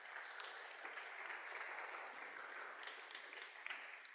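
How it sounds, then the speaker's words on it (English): Concert audience at St. Marks Lutheran Church gives a sustained round of applause for the Musica Antiqua Nova performers, a fairly soft, steady patter with a few sharper claps near the end. "Big applause for this."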